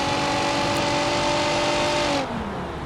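A car engine in BeamNG.drive holds a high, steady rev with a strained whine, then the pitch drops sharply as the throttle eases off near the end.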